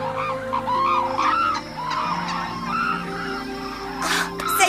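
Chickens cluck and murmur in a dense flock gathered around a character in an anime, with layered fowl calls and a steady musical hum underneath, ending in a brief bright rustle.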